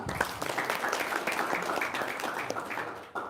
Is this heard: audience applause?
yes